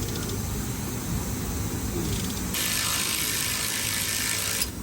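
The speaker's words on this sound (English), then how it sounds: "Pulling out the bolts," Ratchet wrench backing out bolts on a worn truck steering box, a quiet, continuous clicking whir with a brighter, faster stretch in the middle before stopping.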